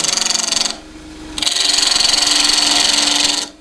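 A 1/2-inch spindle gouge cuts wood spinning on a lathe in two bursts, a short one and a longer one, each a bright, steady, close shearing hiss with a brief pause between.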